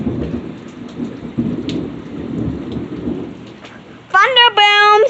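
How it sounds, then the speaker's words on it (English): Heavy rain and rumbling thunder fill a storm as water floods around a house roof. The low, rolling thunder lasts throughout under the downpour, and near the end a short, loud, harsh electronic tonal burst cuts in. "Thunder"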